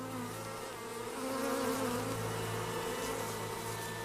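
Bees buzz steadily in a continuous, close drone over a honeycomb as their colony is overrun by ants, with the hum swelling slightly midway and no voices.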